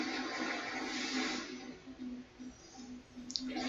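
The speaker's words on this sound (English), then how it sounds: "So yeah, we'll just fire off Water Pulse." Water Pulse attack fired in a Pokemon battle game: a sustained watery rushing burst with a pulsing, throbbing tone that holds steady for several seconds at moderate loudness, ending in a small sharp click.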